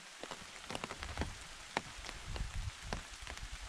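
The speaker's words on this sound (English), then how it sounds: "I'm just walking here in the rain." Steady rain patters on a surface close by on a backpacking trail in the Smokies, with scattered individual drops tapping sharply over the continuous wash of rainfall.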